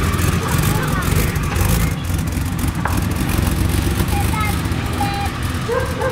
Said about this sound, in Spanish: Suena es porque tiene el exhausto roto.